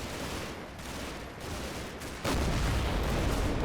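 Anti-tank gun firing in the Combat Mission World War II game, a rumbling battle din that jumps abruptly into a heavier, louder sustained blast partway through.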